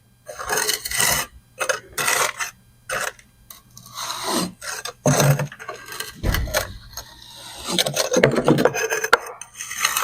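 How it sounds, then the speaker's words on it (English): A trowel presses and scrapes cove base into a corner, making repeated rasping, rubbing strokes back and forth in uneven bursts, close and fairly loud. "I'll take this trowel and I'll come back out and back in"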